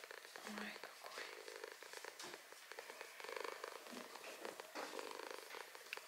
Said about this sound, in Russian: Любит, когда я ему чешу тушки и мурчит, мурчит, мурчит.